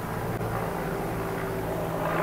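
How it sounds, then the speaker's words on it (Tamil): A helicopter in Sikkim flies close by, a loud continuous mechanical drone with a low throbbing rotor hum that stays steady throughout, with no talking. "ஹெலிகாப்டர் தானே."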